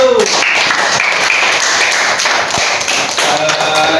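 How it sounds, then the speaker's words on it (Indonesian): A class claps for group 1 after the group shows its project drawing, a dense, steady patter of many hands that fills the whole stretch at close range. "Berikan tepuk tangan untuk kelompok 1."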